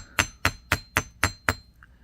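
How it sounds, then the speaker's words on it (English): Six evenly spaced, sharp nylon hammer strikes ring out on a solid steel block while flattening wire earrings, each with a brief bright clink, close and steady in rhythm. "we're going to get our steel block out and our nylon hammer, and we're going to hammer this"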